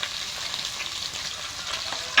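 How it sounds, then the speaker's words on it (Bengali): Chopped onion and crushed garlic fry in hot oil with a dense, even crackling sizzle, close and continuous, with faint stirring texture throughout and a brief louder bump at the very end. "এগুলো নাড়াচাড়া করে ভেজে নেব।"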